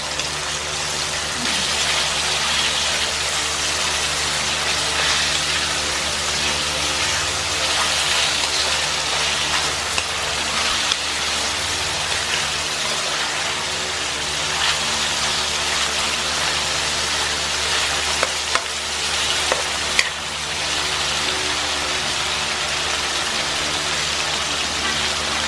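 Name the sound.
chicken frying in a pan until golden brown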